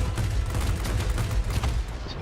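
A MiG-15bis Tier X Russian fighter in the World of Warplanes video game fires its cannons in dense rapid bursts, loud and continuous over engine roar, with no talk.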